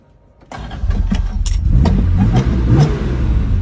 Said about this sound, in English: This is a 4-liter straight six with about 300 horsepower.